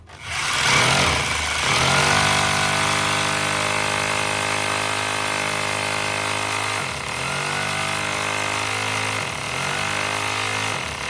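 Electric drill boring into a mount for fixing an antenna, a steady high whine with strong harmonic hum that runs almost continuously, dipping briefly twice as the bit bites.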